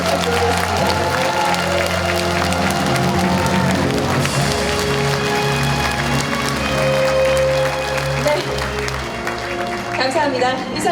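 A large audience claps steadily and loudly through the whole stretch at a public talk concert, dense sustained applause with scattered cheers and a voice faintly over it.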